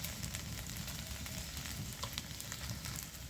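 Okra curry being stirred in a pan after salt and turmeric go in, giving a steady, dense sizzle with faint scraping, fairly quiet and with no talking.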